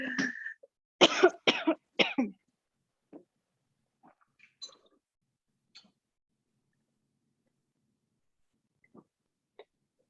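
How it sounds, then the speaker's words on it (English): A burst of several harsh coughs near the microphone in a kitchen, followed by a few faint, scattered small sounds and long quiet stretches. "I just got a cough, I'm so sorry."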